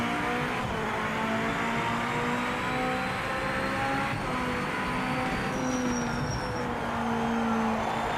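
Race car engine in the Project Motor Racing video game, with a glitched, continuous droning tone and overlapping pitch lines holding steady at a loud, even level throughout.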